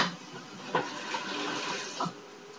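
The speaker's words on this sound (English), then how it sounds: "Rinse off my fingers." Running tap water over fingers at a kitchen sink while making lemonade, a steady close splashing stream with a few brief louder splashes as the hands move, no talking.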